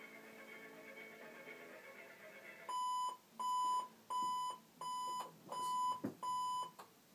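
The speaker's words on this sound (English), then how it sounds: "once your alarm clock goes off" An Arduino-powered alarm clock goes off with six loud, evenly spaced electronic beeps, each a steady tone of about half a second, close and clear after a quieter stretch.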